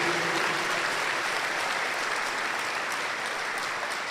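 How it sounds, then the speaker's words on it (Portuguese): Church congregation at an evening Sunday Mass clapping in a long, even round of applause, dense and steady, with a faint voice briefly audible at the start. "Pode dar uma salva de palmas"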